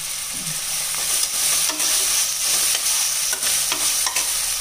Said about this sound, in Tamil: வெங்காயம் வதங்கிட்டு இருக்கும்போது அங்கம்மா இஞ்சி பூண்டு பேஸ்ட்டு 2 டீஸ்பூன் சேர்த்துருக்காங்க